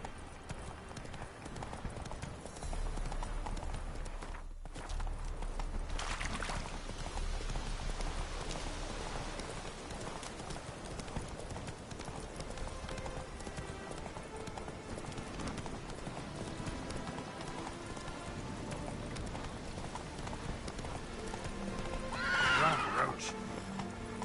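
Roach the horse gallops in Witcher 3, with rhythmic hoof clip-clop, snorting and a whinny over a steady game ambience of rain, while a voice speaks during the run.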